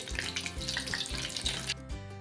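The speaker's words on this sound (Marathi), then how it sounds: "मिरची ना नेहमी आपण तळताना सगळ्यात महत्त्वाचं की मध्ये थोडी चिरून घ्यायची आणि त्यानंतर तळायची" Green chillies, slit down the middle, fry steadily in hot oil beside besan bhaji, a close, continuous crackling sizzle with no talk that drops away abruptly near the end.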